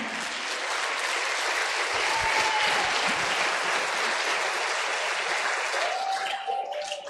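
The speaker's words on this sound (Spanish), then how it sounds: "Dale un fuerte aplauso a tu Señor." A church congregation bursts into sustained, steady applause, loud and dense throughout, with a brief vocal tone rising above it near the end.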